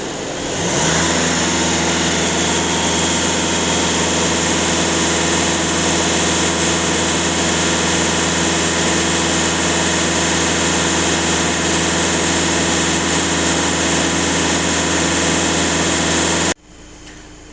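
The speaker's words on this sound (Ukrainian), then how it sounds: "на холостих 0, даю газ в пол, перевіряю" A VW Caddy Maxi 2.0 TDI diesel engine is held at full throttle after a DPF and EGR cleaning. It gives a loud, steady, close roar for about sixteen seconds, then drops abruptly back toward idle.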